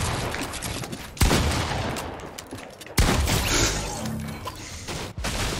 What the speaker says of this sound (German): Ich muss wirklich komplett daneben schießen.